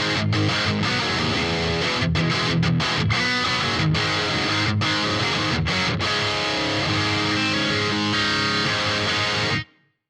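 Heavily distorted electric guitar through a BOSS GT-1000 amp model, a modded amp with a 4x12 cabinet, playing dense rhythm chords with short choppy breaks, loud and sustained, then stopping abruptly near the end.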